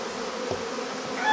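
Dense, steady hum of many honeybees in an opened hive, a continuous close buzz that swells slightly near the end, with no voices.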